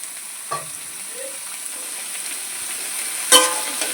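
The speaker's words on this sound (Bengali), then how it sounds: "এখানে আলুটা ভাজা ভাজা হয়ে গেছে এখন ডুমুরটা দিয়ে দেবে" Potatoes fry in oil in a pan on a windy outdoor cooking spot, giving a steady, quiet sizzle, broken by two distinct clinks of a spatula stirring against the pan.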